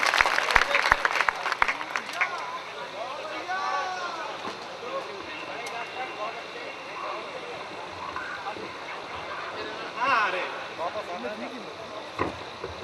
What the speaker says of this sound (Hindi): मैं चाहता हूं बदायूं अपने सम्मानित कवि को एक बार जोरदार तालियों के साथ स्वागत दे।